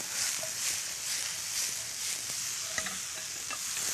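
Ingredients for a shrimp-and-mushroom dish stir-fried in a pan, with a steady broadband sizzle and scraping stirs, a few light utensil clicks near the end, and no talk.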